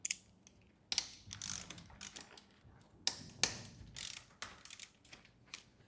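A 3/8-inch drive ratchet fitted with a T45 Torx bit loosening motorcycle wheel pinch bolts, heard as a series of close, clicky ratcheting bursts with short pauses between strokes.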